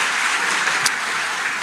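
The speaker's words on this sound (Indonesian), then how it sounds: "Berikan tepuk tangan kita untuk Tuhan kita." A congregation applauding in a church worship service, steady dense clapping throughout with no voices on top.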